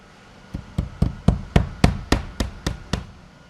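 Hammer nailing cellular PVC board and batten vertical siding panels onto a wall, about ten sharp, evenly spaced blows in a steady rhythm, close and loud with no talking.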